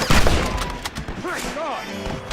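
Gunfire in Red Dead Redemption, a few sharp shots cracking near the start amid a gunfight, followed by shouted voices and rising tonal cries over the fading echoes.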